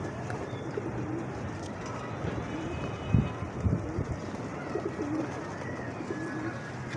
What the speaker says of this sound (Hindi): यहाँ पे कबूतर मौजूद हैं